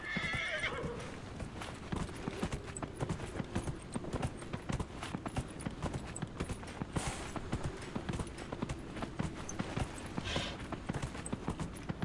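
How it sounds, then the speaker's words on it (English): Horses in Dragon Age Inquisition, with steady rhythmic clip-clop of hooves throughout and a neigh near the start, all fairly quiet. "The horses sound much better than that elk."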